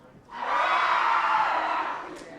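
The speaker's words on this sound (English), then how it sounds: "can you guys clap for us?" An audience at the 2017 WSC opening ceremony bursts into a sustained roar of clapping and cheering that rises quickly and holds steadily for about two seconds.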